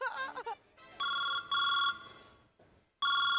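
A telephone rings in short, repeated electronic bursts separated by brief pauses, loud and close, with a quick voice heard just before the first ring.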